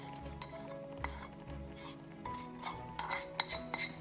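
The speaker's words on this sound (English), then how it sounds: "So you add everything and then you are going to give a really good mix." Red lentil and fenugreek curry mixture with onions, garlic and chili flakes being stirred in a pot, a utensil scraping and clinking against the metal over a soft sizzle, fairly quiet and close with no speech.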